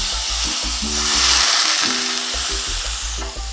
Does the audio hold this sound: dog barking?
no